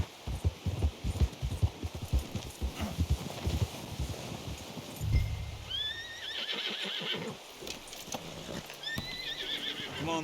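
Horse hooves clip-clopping in Red Dead Redemption 2, a steady close rhythm of hoofbeats, followed by a couple of whinnies and snorts in the later part.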